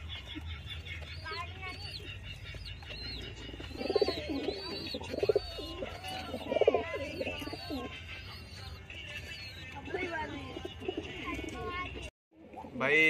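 Hyderabadi pigeons coo in repeated soft, rolling phrases close by, with chirps mixed in as someone talks over them, and a brief sharp break near the end.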